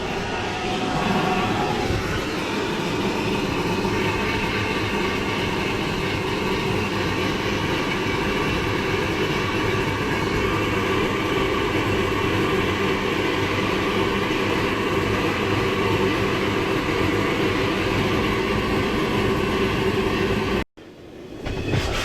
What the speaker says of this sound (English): Our LMS Blasting Innovations cabinet is getting a lot of work.